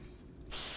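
A short, close burst of hairspray hisses onto teased hair, starting abruptly after a quiet moment and continuing to the end.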